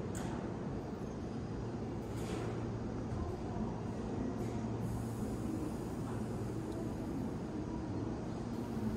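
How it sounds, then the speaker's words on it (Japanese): A Seibu 4000 series train departs Seibu-Chichibu station, rumbling steadily close by, a low continuous roar with rail noise and brief high squeals as it pulls away. "乗ってきた4000系がねちょうど折り返して飯能駅に向かっていきます。"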